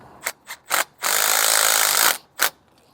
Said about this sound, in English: put the self-tapper in place, and we're going to drive that down in there